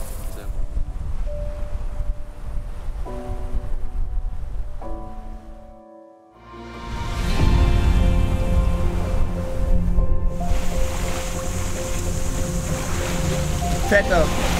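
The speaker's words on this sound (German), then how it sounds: "Die Wellen werden auch immer größer und gleichmäßiger." Ocean waves wash steadily around a sailboat in the mid-Atlantic, a broad rushing surge that dips briefly then swells louder, with wind noise and faint voices.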